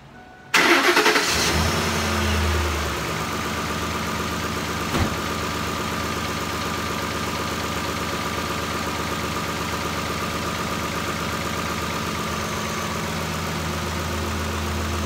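Ford 5.4L truck engine with a jumped timing chain cranks and catches, then settles into a steady, loud, slightly uneven idle that runs alone for the rest of the clip.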